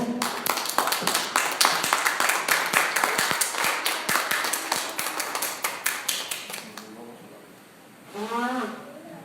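A church congregation claps together in a dense, loud burst of applause that fades after about seven seconds, followed by someone speaking briefly.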